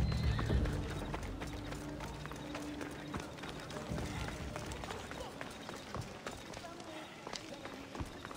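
Horse in Assassin's Creed Odyssey galloping with rhythmic hoofbeats and letting out a whinny, set among busy game sounds with voices mixed in.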